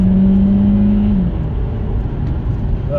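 A 2023 Seat Leon plug-in hybrid with a 1.4 engine accelerates hard, a loud steady drone with a rising tone at the start easing into constant road and engine roar, close inside the cabin with no talking.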